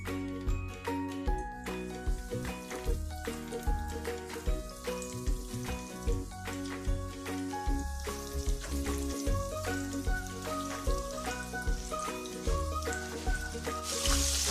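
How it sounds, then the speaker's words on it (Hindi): Fish deep fries in more than half a kilo of hot oil with a constant bubbling crackle that sits under prominent background music for the whole stretch. "ऑयल अच्छे से गर्म हो गया। अब मैं इसमें फिश डाल दूंगी।"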